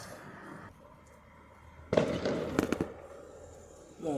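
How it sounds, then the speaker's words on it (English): Fireworks bursting on Bonfire Night, a cluster of loud sharp bangs and crackles in the middle after a quieter stretch of distant pops, with another burst starting at the end. "Guys, you hear that? Lots of fireworks."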